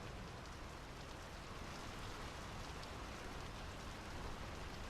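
Steady, soft rain hisses evenly throughout in the game Draugen, a dense continuous wash with no distinct drops or voices.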